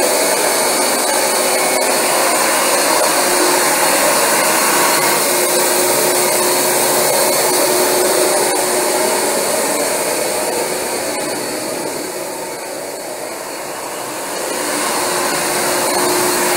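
A loud, steady motorized whine and rushing suction from a Rug Doctor carpet cleaning machine drone on continuously, dipping slightly in pitch and strength before rising again.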